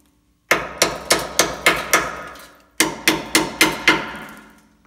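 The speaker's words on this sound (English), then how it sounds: "let's go under here and see how she holds up to the hammer test." A hammer taps the rusty frame of a 1989 Toyota 4WD pickup in quick, even strikes, two runs of about six blows each, every hit clanging and ringing briefly.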